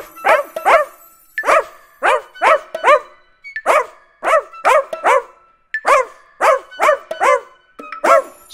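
A small dog barks in a rhythmic children's song, with sharp, high bark-like yips in quick pairs and clusters repeating steadily, loud and close, no talking.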